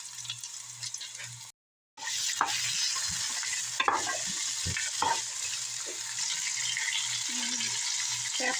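Beef, onions and pepper are stir-fried together in a hot pan, with continuous bright sizzling, repeated scraping and clattering of a utensil against the pan, and a brief gap near the start, close and loud.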